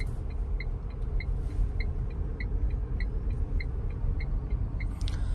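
A Tata Punch driven slowly by a learner, a steady low engine and road rumble from inside the cabin with a regular ticking, like a turn indicator, over it.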